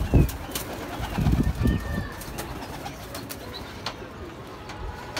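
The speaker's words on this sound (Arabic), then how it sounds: "حمام بينشن في الخارج" Pigeons coo in soft low bursts near the start, followed by quieter background chatter and occasional clicks.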